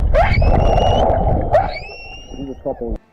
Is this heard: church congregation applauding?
no